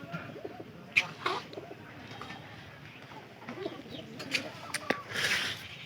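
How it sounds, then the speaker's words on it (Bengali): A pigeon coos in low, soft, repeated calls at a home loft, fairly faint and mixed with scattered clatter and background noise, with a person speaking nearby. "কবুতর পায়রাটা ডাকতেছে আমার।"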